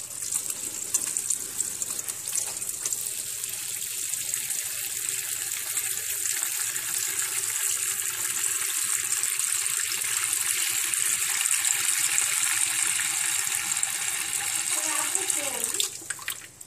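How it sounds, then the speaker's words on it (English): Tap water runs steadily over a Sony Xperia Z Ultra phone during a water test, a continuous close splashing hiss that holds for about fifteen seconds before the flow shifts and cuts off near the end. "Now we are going to water test Sony Xperia Z Ultra."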